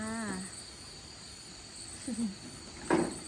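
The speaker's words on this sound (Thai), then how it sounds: "ฟังเสียงนก เสียงหนู เสียงจักงจัน เสียงจิ้งหรีด" Crickets and cicadas chirp outdoors in a continuous faint, high drone in the background, while a few brief voices and small noises come through nearby.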